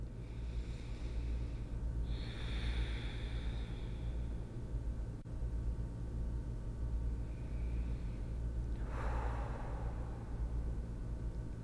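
Slow, deep breaths taken during a seated yoga twist in a functional movement class: two soft, airy exhalations a few seconds apart, near and quiet over a steady low room hum.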